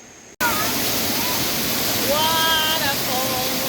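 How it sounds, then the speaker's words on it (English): A rainforest waterfall in Kibira pours in a steady, loud roar after a brief quiet start, with bird whistles calling over the rushing water. "Waterfall,"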